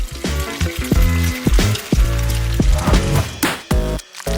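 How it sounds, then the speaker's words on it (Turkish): Loud, steady sizzling of bacon frying in a pan, with crackles and pops throughout and occasional clinks of utensils. "Ah, pastırmayı aldı. Onu da kızartmaya karar verdi"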